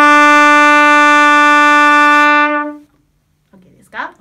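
A trumpet sustains a single steady E (mi) note for about two and a half seconds in a scale lesson, loud and close with rich bright harmonics, then fades out, followed by a brief voice at the end.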